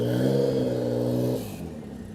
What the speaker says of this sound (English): Matty Hansen's car in the background.